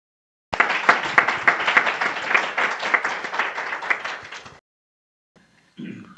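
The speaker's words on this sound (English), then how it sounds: "Let's give them all a big round of applause." Audience applause at a film screening, a steady burst of clapping lasting about four seconds then stopping, followed by a short pause and brief low sound.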